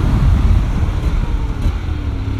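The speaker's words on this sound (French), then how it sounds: "on l'entend rétrograder, elle rétrograde vite en mode sport" Engine of a 2021 Honda X-ADV 750 scooter downshifting under braking in sport mode, a loud continuous low rumble with wind noise and slight shifts in pitch as it slows.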